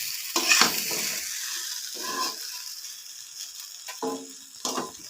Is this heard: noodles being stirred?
yes